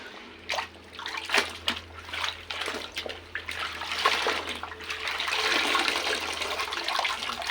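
Water splashes and sloshes as laundry is rinsed by hand in a basin, with irregular sloshing bursts building into a steadier pouring, trickling wash, moderately near and fairly quiet.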